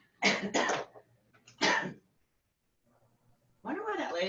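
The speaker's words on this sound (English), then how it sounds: "Wonder why that lady made me cough." Two or three sharp coughs from a woman early on, then a short voiced sound, followed after a pause by a person speaking; close and fairly loud against a quiet room.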